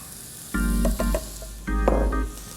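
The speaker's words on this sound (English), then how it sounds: "I'm adding the fresh tomato, the fresh canned tomato, to the tomato paste" Canned tomatoes hit hot tomato paste in a pan for tomato bread soup, making a loud sizzle in two bursts with a quieter stir between them.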